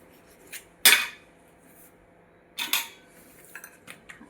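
A knife cuts homemade khari pastry dough into two pieces, giving two sharp clacks against the work surface about two seconds apart, followed by a few faint light taps, with no speech.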